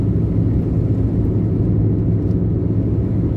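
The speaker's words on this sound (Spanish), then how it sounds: "El viento está muy fuerte" Driving down a mountain road in the Sierra Leona, heavy low rumbling of wind buffeting the car mixes with road noise in a constant, close roar with no voices.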